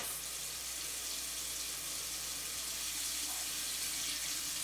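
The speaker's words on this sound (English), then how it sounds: "I got water coming out because I left this on." Water runs from a faucet under a sink beside a cold water line, a steady, broad hiss holding at an even level throughout with no talk.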